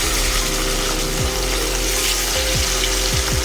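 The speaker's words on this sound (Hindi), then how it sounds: "जो फिश मैंने मैरिनेट करके रखा था वो भी रेडी है फ्राई करने के लिए। तो मैं फिश को फ्राई कर लूँगी।" Marinated fish fries in a pan, a steady broadband sizzle running throughout with a low, repeating mechanical hum and a few soft thumps beneath it.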